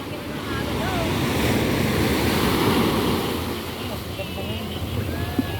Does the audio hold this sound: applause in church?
no